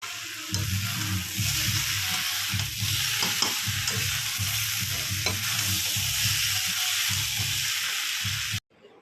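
Bagda prawns are tipped into a snake gourd curry and stirred in the pan, a close, continuous sizzle with rhythmic scraping and clinking of the spoon that stops abruptly at the end.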